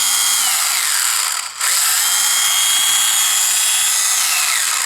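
A Fixtool Pomogator cordless angle engraver runs with a steady high-pitched whine and briefly dips near the start before spinning back up. It is heard close and alone, with no talking.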